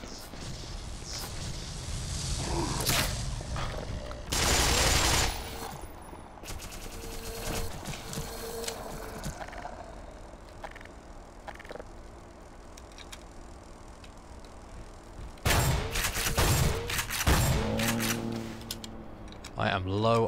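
An alien energy weapon fires in the Black Mesa video game, loud bursts of shots near the start and again toward the end, separated by quieter stretches of ambient game sound.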